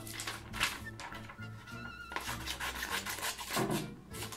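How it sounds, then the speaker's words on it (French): Scissors cut through a paper page in a series of short, crisp snips and rustles, quiet and close, with some faint talk underneath. "je découpe cette page, zoom, je la découpe"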